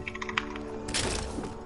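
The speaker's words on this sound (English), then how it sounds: "I hate this fucking keypad, I can hear that." Typing on a computer keyboard, a quick run of close, crisp key clicks followed by a busier, louder burst of keystrokes, with no one speaking.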